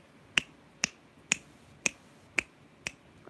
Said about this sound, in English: I've gotten really good recently at snapping my fingers.